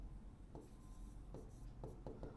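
Chalk or marker strokes on a classroom board while an equation is written out, faint scratchy taps in short bursts over a low steady room hum, no talk.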